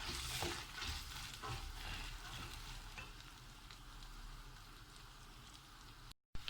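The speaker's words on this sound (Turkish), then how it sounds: "Yine bir 2-3 dakika daha kavuracağız." Carrots, potatoes and borlotti beans sizzle and crackle in a hot pan, with occasional stirring scrapes over a continuous frying hiss, close and fairly quiet.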